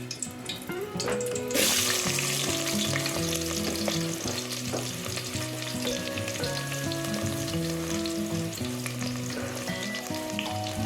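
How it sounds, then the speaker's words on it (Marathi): Onion hits hot oil in a pan over a wood-fired stove while mutton curry is cooked, a loud sudden sizzle that settles into a steady close frying hiss, with background music tones running throughout. "तेल गरम झाले तर कांदा टाकत आहे"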